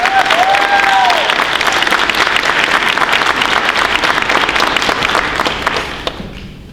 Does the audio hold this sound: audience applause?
yes